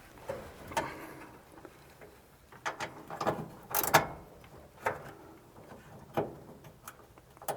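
A socket wrench works at the windshield crank bolt of a 1946 Chevy truck, giving irregular bursts of ratcheting clicks and small metallic knocks, close and moderately loud, with pauses between the turns.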